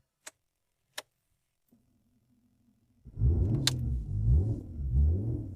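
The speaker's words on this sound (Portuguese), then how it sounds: "Vamos ligar a fera!" A Ford Sierra GLE 2.3 V6 cranks and fires: a few sharp clicks, a brief starter whir, then the engine catches into a loud, close, rumbling idle with slight revving surges.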